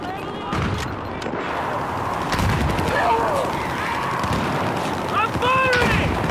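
Battlefield 4 gunfire and explosions rumble through a dense battle soundscape, with bursts of shots and booming impacts layered over constant background noise while voices call out in the fray.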